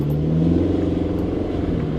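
A Domino's Pizza delivery car with a failing CVT transmission drives and accelerates, its engine a loud steady drone with rumbling, rising slightly as it picks up speed.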